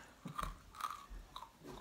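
Crunchy food is bitten and chewed close to the mic, a few quiet, crisp crunches spaced unevenly over a soft background, with no talk.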